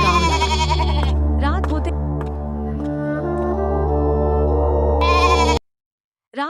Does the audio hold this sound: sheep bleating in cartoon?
yes